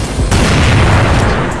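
Grenade blast in the video game CrossFire, a single loud, dense boom filling the whole moment with heavy low rumble and a sharp onset.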